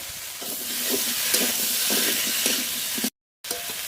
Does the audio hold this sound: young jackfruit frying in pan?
yes